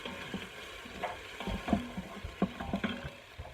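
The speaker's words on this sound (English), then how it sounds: "let that saute for about a minute or so" Minced food sautés in an Instant Pot, a soft sizzle under repeated scraping and stirring strokes of a utensil against the pot, close and fairly quiet.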